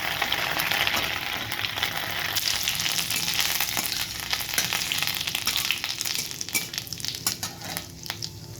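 Ginger paste frying in hot oil in a pan for a vegetarian paneer dish, giving a steady, crackling sizzle throughout with occasional scraping stirs.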